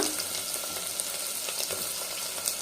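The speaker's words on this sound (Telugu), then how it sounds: "ఉల్లిపాయలు బాగా వేగనిద్దాము" Sliced onions frying in a pan for a mutton curry, giving a steady, close sizzle with scattered crackles and pops throughout, and no voices.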